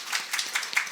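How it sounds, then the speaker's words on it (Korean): Audience clapping in thanks at a Korean church gospel meeting, a brief patter of hands that is fairly faint and fills the whole moment without any voice over it. "감사의 박수 드리겠습니다."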